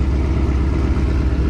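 A BMW E92 M3 engine roaring loudly at high revs with a faulty squeak at startup, a dense, steady, close-up rumble filling the short moment without any voices.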